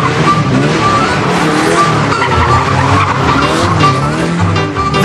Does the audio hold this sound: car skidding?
yes